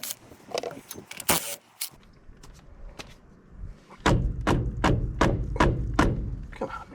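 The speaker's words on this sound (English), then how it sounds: "Take off your lug nuts." Lug nuts coming off a dual-axle trailer wheel: a run of rhythmic, fairly loud metallic knocks, about six in quick succession, after a stretch of scattered clinks and handling noise.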